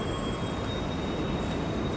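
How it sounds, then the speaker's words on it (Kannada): A Namma Metro train rumbles steadily nearby, with thin high-pitched whining tones riding over the low roar of the wheels and no talking. "ನಮ್ಮ ಮೆಟ್ರೋ ಇದೇ ನೋಡಿ, ನಮ್ಮ ಮೆಟ್ರೋ ಇದೇ ತಗೊಳ್ಳೋದು."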